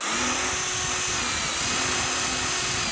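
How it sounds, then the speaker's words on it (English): Power drill driving GRK screws into wood during construction of a range hood, a steady, loud whirring motor whine held continuously for a few seconds, close by and alone. "These GRKs sink right in."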